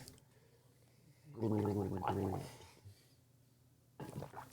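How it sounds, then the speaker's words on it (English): Beer, an Innis & Gunn Caribbean Rum Cask ale, gargled in the mouth in one loud bubbling burst of about one and a half seconds, with quieter mouth sounds after it and a brief noise at the end. "when you gargle it in your mouth, and it just stirs around the flavors if there's any there"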